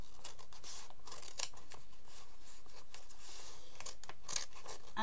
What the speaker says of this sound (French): Je vais essayer avec mon grand ciseau.